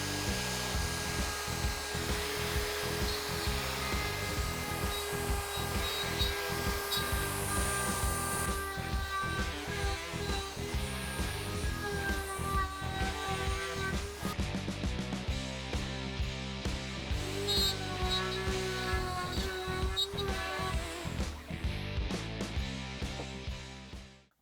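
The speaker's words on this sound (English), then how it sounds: "we'll be able to rotate this around while plunging the router down 1/4 inch at a time" Handheld router fitted with a spiral upcut bit, plunged a quarter inch per pass on a circle-cutting jig, cutting a wooden circle: a steady, loud, continuous high whine with a rhythmic pulsing chatter throughout, no talk, fading out at the end.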